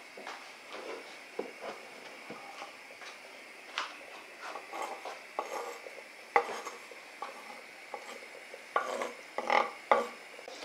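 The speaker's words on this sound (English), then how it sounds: "I'm going to start adding the garlic and ginger." Garlic and ginger go into a pot of Chinese curry sauce, with intermittent clinks and scrapes of a utensil against the pot and a faint simmer between them.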